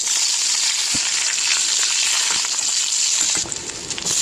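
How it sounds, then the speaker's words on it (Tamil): Spices for tempering, including asafoetida and dried red chillies, crackle and sizzle in hot oil, a continuous bright frying hiss with small pops, close by and steady. "இப்போ தாளிச்சிக்கலாம்"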